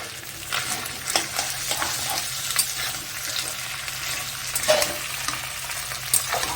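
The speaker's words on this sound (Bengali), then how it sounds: "শাকের জন্য ইলিশ মাছের মাথাটা ভালোভাবে ভাজা ভেবে নেওয়া হচ্ছে" A hilsa fish head fries in hot oil for a taro-leaf dish, giving a continuous sizzle punctuated by sharp stirring scrapes and clinks of a utensil against the pan. No voices are heard.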